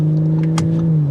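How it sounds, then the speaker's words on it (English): A 2022 Audi S5 Sportback exhaust at a steady, smooth hum with a strong low engine tone and a short rise in throttle midway, heard close and without talk. "You get a good exhaust note"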